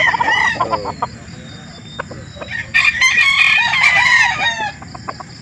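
A rooster crows at a chicken market in Calauan, Laguna, its call rising twice over several seconds amid clucking fowl, fairly close and loud against steady market background noise.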